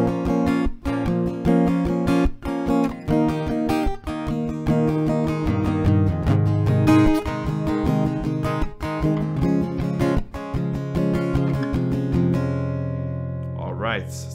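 An acoustic guitar strums chords in a slow, even progression, with a steady pulse of strokes before the last chord rings out at the end.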